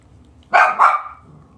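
Dogs barking indoors in a home, two quick loud barks close by, one right after the other, then quiet.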